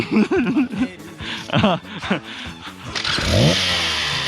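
Motorcycle on an off-road forest trail, its engine rising and falling as it revs and then builds to a louder strained roar, with people talking and shouting loudly over it at the start.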